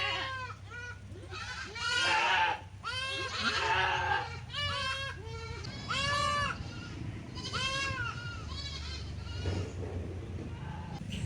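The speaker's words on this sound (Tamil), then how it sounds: "ஆடுங்கள்லாம் வந்து மேய்ச்சலுக்கு போயிடுச்சு" A herd of goats on a farm bleats loudly and continuously, with many overlapping calls close by and faint poultry sounds mixed into the background.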